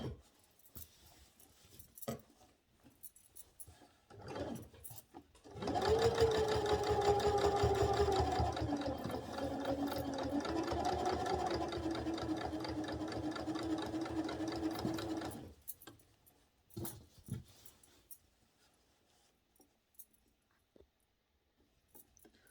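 A sewing machine stitches steadily along the edge of a collar. It runs for about ten seconds, loud and close, with quieter handling noises before and after.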